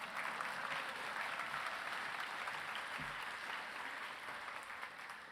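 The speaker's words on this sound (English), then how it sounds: "you can applaud for Kyle." An audience at the Japanese Cultural Center of Hawaii's Sharing the Spirit of Aloha 2019 event applauds steadily, a dense, even wash of clapping that holds at constant loudness throughout.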